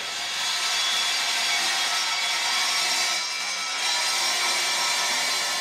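Steel stock cut for a hammock stand makes a steady, loud, even grinding hiss that runs almost unbroken, dipping slightly once midway.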